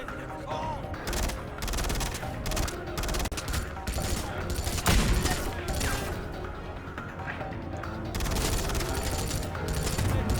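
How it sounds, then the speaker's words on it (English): Enemies open fire in the Xbox 360 action shooter Wanted: Weapons of Fate, producing a steady, dense barrage of rapid gunshots and impacts that continues for several seconds alongside game effects. "Very clearly shooting you."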